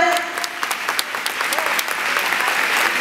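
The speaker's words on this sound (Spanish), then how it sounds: "Un aplauso a Norma, la mamá de Mónica, que acaba de llegar" Assembly audience applause, a dense, continuous wash of many hands clapping at steady loudness, with a few voices calling out underneath.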